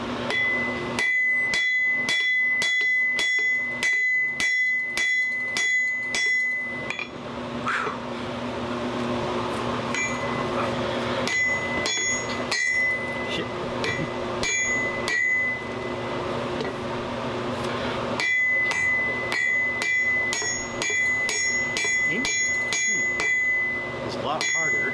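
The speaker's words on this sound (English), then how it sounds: "It's a lot harder aiming with the blade with the hammer." Metal blade struck repeatedly with a hammer, a steady run of sharp ringing clanks that pauses briefly before resuming, loud and close with no voices.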